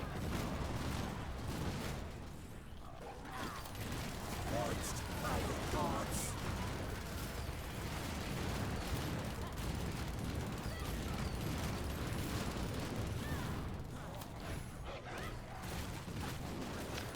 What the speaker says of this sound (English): Look at the range on those turrets. That's like piercing projectiles that can reach so far.